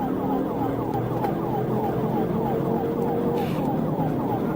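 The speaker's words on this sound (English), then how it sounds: "Florida Highway Patrol Trooper Walner Roy switched on his sirens and gave chase" A Florida Highway Patrol car siren wails during a high-speed chase over steady road and engine noise, fairly loud and continuous, with faint voices in the background.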